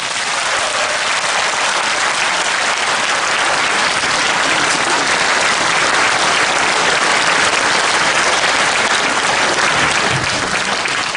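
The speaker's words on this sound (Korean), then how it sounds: "우리 홍성근 목사님 나오실 때 여러분 환영의 박수로 모시고 싶습니다" A church congregation at a revival meeting bursts into loud, continuous applause to welcome the pastor, a dense, even roar of clapping hands that holds steady for over ten seconds.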